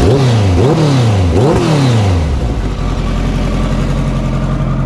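A 2009 Kawasaki ZX-1400 motorcycle engine revs hard several times in quick rising bursts, then settles into a loud, steady idle, close by.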